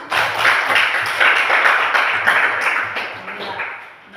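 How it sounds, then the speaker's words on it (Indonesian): A classroom of students claps together during a religious education lesson in Merauke, a brief, moderately close burst of applause that swells and tapers, with a faint murmur of voices underneath. "Kita tepuk tangan dulu."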